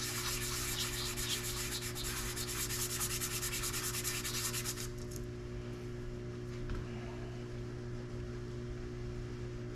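A mokume gane ring is sanded with a steady, close rasping rub for about five seconds, then the sanding stops and a low mechanical hum carries on alone.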